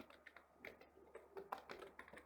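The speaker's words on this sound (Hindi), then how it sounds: "टाइपिंग करेंगे यहाँ पर क्लास" Computer keyboard typing during a programming lab session, a quiet run of irregular key clicks in short bursts, fairly close and soft, with no voices.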